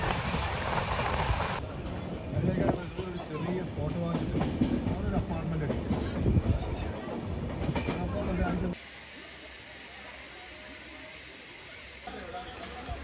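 Steady rumble and hiss of the Swarnajayanthi Express running on rails, loud and continuous, with a voice talking over it for the first part before fading to a quieter drone.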